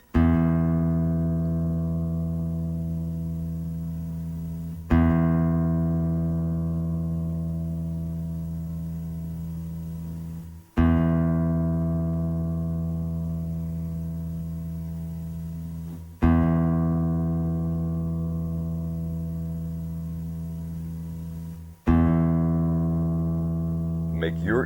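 A low E reference note for tuning a classical guitar is plucked four times in a row. Each note rings out long and full, decaying slowly before the next pluck.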